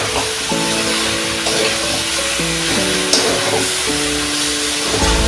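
Spices and coriander powder sizzle in hot oil in a pan, a steady hiss with stirring scrapes, partly covered by a louder background melody.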